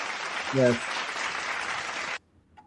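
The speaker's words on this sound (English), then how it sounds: "that deserves a round of applause" A burst of applause from an audience, steady and fairly loud for about two seconds, then cut off abruptly, with a brief tonal voice near the start.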